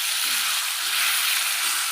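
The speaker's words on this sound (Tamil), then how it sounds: "அந்த இஞ்சி கொஞ்சம் நமக்கு நல்லா கொஞ்சம் சுவையாச்சு, நல்லா ஃப்ரை ஆகிடுச்சு" Ginger frying in a pan for a fish curry makes a dense, even, close sizzle that carries on without pause.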